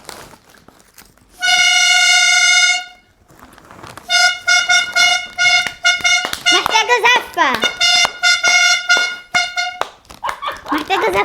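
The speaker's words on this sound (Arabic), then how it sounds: "دي زمارة كنت كسباها" A toy party horn won as a prize is blown in loud, steady reedy blasts, first one long held honk, then a run of shorter toots and wavering squeals, with voices talking over and between the blasts.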